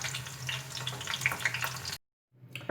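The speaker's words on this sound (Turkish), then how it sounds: "çevire çevire bunları güzelce kızartın" Eggplant slices frying in oil in a pan for bostan kebab, a steady close sizzle and crackle that cuts off abruptly for a moment before resuming.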